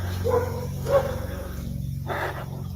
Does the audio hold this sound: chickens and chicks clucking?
no